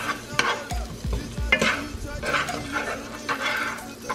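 Butter and onions sizzle in a pan at low level, joined by scattered stirring scrapes and a few dull knocks, with a voice partly mixed in.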